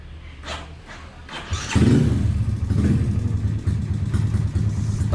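A restored, trail-modified Honda Karisma motorcycle engine cranks and catches, then settles into a loud, close, steady idle with a rattly, rapid putter.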